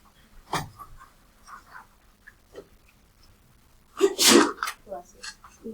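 A single sharp sneeze bursts out near the end, preceded by quiet rustles and a soft earlier breath-like burst in a quiet room.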